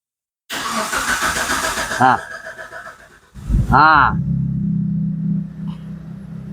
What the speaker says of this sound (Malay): Kita akan start. 1 susah mau hidup, kedua RPM jadi gila.